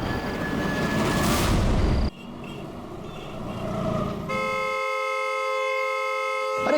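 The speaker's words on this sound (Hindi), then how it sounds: "अरे कौन है ये नॉन स्टॉप हॉर्न बजा रहा है?" A vehicle horn sounds continuously for several seconds, loud and steady after a noisy stretch of traffic-like rumble, with no one speaking over it.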